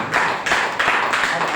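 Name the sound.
audience applause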